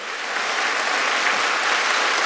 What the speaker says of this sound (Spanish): fuerte el aplauso por la valentía del doctor Héctor Guillén Tamayo